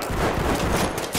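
Gunfire in the tactical shooter Ready or Not during a night raid, a dense loud burst of shots filling the whole short moment.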